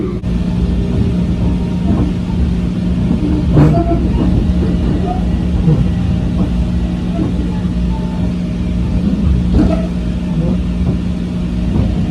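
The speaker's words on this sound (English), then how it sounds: "This is the train to Grand Central." A Metro-North commuter train bound for Grand Central rumbles steadily throughout, a continuous low onboard hum with faint clicks and no talking.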